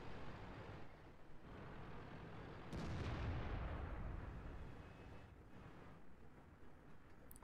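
A tank cannon shot in World of Tanks booms out as a loud, broad blast, then settles into a steady low engine and battlefield rumble.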